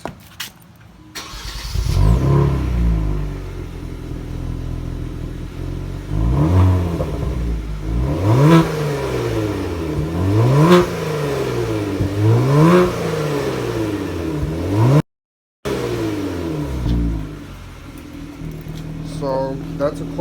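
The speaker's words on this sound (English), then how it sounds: "This is a cold start with the SSR downpipes." Kia Stinger GT with SSR Performance downpipes cold-starting, firing up with a loud bark and then repeatedly revving in rising and falling sweeps, close and loud, with a brief dropout near the end.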